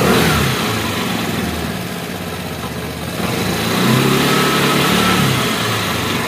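A Vespa scooter engine runs close by with a rough, noisy idle that swells into revving as the throttle opens, loud and continuous with no talk.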